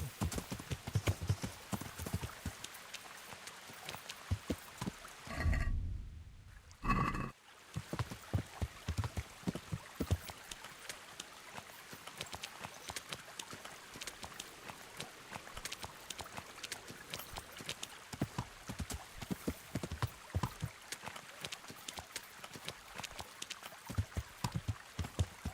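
Horse hooves trotting in the medieval video game Kingdom Come: Deliverance: a steady, rhythmic clip-clop runs throughout, with a brief louder rush of noise near the middle.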